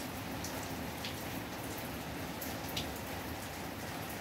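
Steady rain falls in Curitiba, a dense, even hiss of drops on surfaces with occasional brighter splashes, continuous and alone without any voices.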